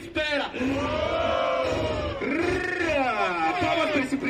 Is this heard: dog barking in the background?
no